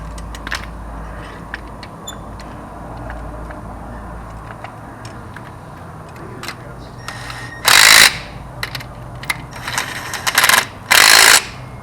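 Two loud bursts of a tool snugging bolts on a MoTech billet bracket on a truck engine, with soft ticking and clicks in between, close by in a workshop.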